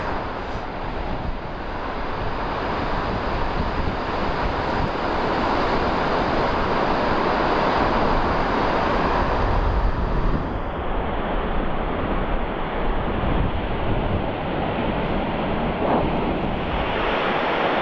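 Waves surging and breaking on a Bristol Channel shore beach as the tide comes in, a loud continuous roar of surf mixed with wind buffeting the microphone, steady throughout with no talking.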